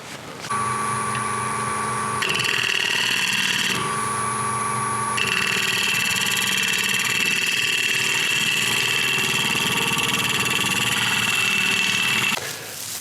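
A wood lathe spins a bowl turned from an odd-shaped log while a tool cleans off tool marks, a steady motor hum with a high whine and scraping that shifts in tone as the cut starts and stops.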